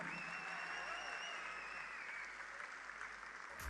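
Audience applause at a large stage event in India as the company founder and chairman is welcomed on stage, a steady wash of clapping that holds evenly throughout, with a faint tone underneath.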